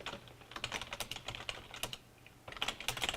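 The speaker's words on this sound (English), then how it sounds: "if I type something here on worksheet 4" Quiet, close typing on a computer keyboard: a quick irregular run of light key clicks, a brief pause, then another flurry of taps.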